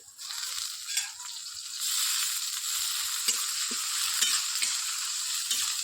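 Chopped tomato, ginger paste and salt fry in a pan for an aloo fulkopi curry, giving a steady close sizzle with occasional soft stirring knocks, no voices.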